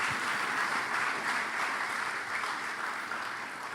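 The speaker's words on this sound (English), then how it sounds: "Give them a round of applause again." An audience at a St. Lucia business awards ceremony applauds, a continuous, fairly even roar of many hands clapping in a large room, sustained throughout without talk.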